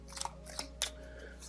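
Tarot cards are drawn and handled up close, making a few quiet, crisp snaps and rustles in quick separate bursts over a soft background hum.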